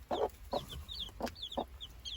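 Hen clucking near a perch, a series of short repeated clucks in an irregular rhythm, close and moderately loud against a faint background hum.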